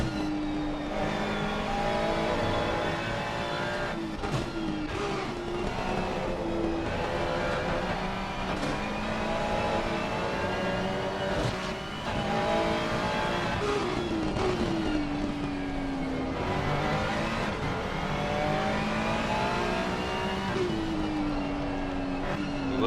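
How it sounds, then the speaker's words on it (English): Race cars lapping the Hungaroring in a racing video game, including a Mustang, make a continuous loud engine drone with rising and falling revs as several cars pass close together, with no voices. "And here we see Marvinelli in the Mustang"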